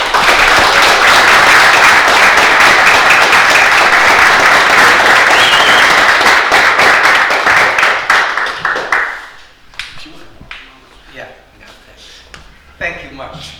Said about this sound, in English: we should give a big round of applause for him